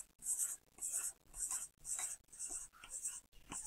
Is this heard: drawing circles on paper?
yes